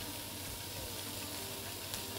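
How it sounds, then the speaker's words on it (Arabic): Onions sauté in a pan, making a dense, even hiss of frying that carries through the short stretch with no break and no talking. "هنشوح البصل"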